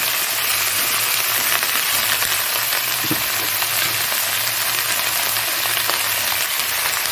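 Cauliflower with potato and tomato fries in a pan, giving an even, steady sizzle with a few faint spatula taps, close and continuous, with no talking.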